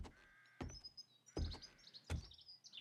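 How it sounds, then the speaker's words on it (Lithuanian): Short bird chirps and tweets from the video game Undead Legacy ring out at high pitch, broken by several dull thumping impacts spaced about a second apart. "Taip, čia bus paukščiukas."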